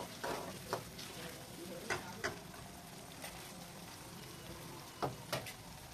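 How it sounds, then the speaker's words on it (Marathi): Chopped tomatoes sauté in a hot pan for a wild leafy vegetable dish, giving a steady low sizzle. A spoon scrapes and taps the pan several times while stirring. "टमाटरला सुद्धा छान असं परतून घ्यायचं आहे"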